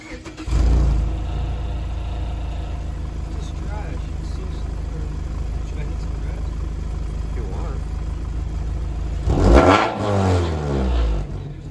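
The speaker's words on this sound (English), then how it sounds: "now we're gonna get a little sound test with the stock exhaust" A 2015 Mazda 6 on its stock exhaust starts up and settles into a steady engine note, then revs briefly near the end, heard up close.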